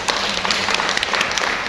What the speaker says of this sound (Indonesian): Tepuk tangan buat Pak Bani.